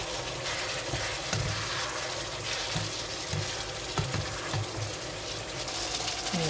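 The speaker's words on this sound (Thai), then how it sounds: "ขั้นตอนต่อไปก็คือเอาเครื่องต้มยำได้จ้ะนี่เครื่องต้มยำของเขาจิ้มลงไปแล้วก็ผัดผัดใส่กับเครื่องต้มยำไปเลยค่ะ" Tom yum paste is stir-fried with mushrooms and chicken in a pan, a steady wet sizzle with repeated soft scraping strokes of a utensil, close and continuous.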